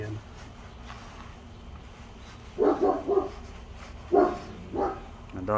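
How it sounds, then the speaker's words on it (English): A Great Pyrenees mix dog gives two short pairs of barks at mid distance, with quiet background between them. "Dog's a great Pyrenees mix."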